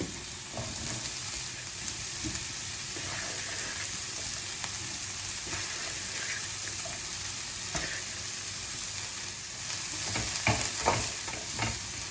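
Broccoli stir-fried in a hot pan, a constant dense sizzle with repeated stirring clatter that grows louder and busier near the end, and no speech.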